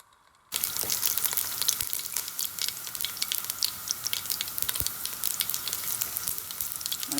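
Garlic sizzles in hot oil in a pan for a Kerala drumstick-flower thoran, a steady crackling fry with small pops that starts abruptly and holds at moderate loudness with no talk.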